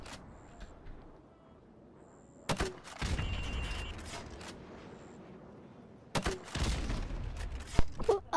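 Grenade launcher rounds hit windows in Modern Warfare Remastered: two separate loud bursts of impact and blast, each followed by a rumbling tail and scattered debris, over a low battlefield hum.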